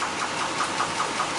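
Chevrolet Impala engine idling steadily after its undercarriage was oiled, a continuous low rumble with a faint regular pulsing, close and alone.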